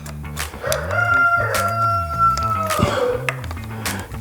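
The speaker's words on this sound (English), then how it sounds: "There's our rooster. He must be excited about something." A rooster crows nearby in one long, loud, warbling call that rises and falls over several seconds, heard alone without speech.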